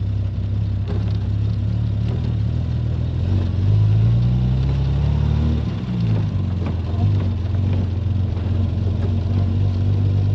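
A 1971 Triumph Vitesse classic car's engine hums steadily from inside the cabin while driving, a continuous low drone whose pitch rises and falls slightly as the car changes speed.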